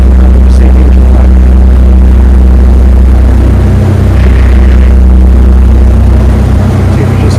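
A sailboat's inboard engine runs hard at full throttle, a loud, steady low drone with a pulsing throb that continues without pause under wind and water noise.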